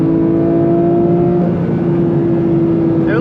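A 2022 Porsche 911 GT3 Touring (992) pulls hard in fourth gear on back roads, its engine note climbing steadily in a loud, sustained wail from inside the car without talk.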